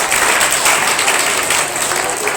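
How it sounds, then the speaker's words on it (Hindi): A school audience at a well-wishing ceremony breaks into loud, dense applause that stays continuous and even for a couple of seconds. "एक बार जोरदार ताली बजाएं।"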